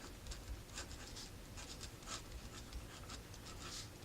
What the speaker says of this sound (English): with my pen, I'm going to write the distributive